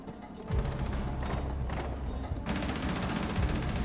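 Gunfire in the tactical shooter Rainbow Six Siege, a dense, steady run of rapid shots that stays loud and continuous across the moment, with no talk over it.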